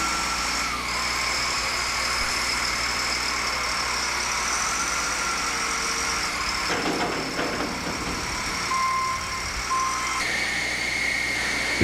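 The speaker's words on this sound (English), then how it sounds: "This front end loader is equipped with L5 tires, which enable the unit to easily move over tires laying on the floor" Front end loader on L5 tires at a shredding and push floor feeder site, its engine running steadily throughout with intermittent high reversing beeps and clanking machinery, loud and continuous.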